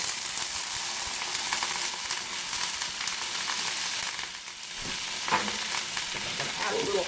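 Steaks sizzling in a pan: a steady, loud hiss of frying that runs through the whole stretch, with small crackles and a few clinks near the end.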